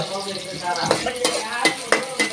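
Onion sizzling in a frying pan while being stirred, with a steady hiss broken by several sharp utensil scrapes and clinks against the pan.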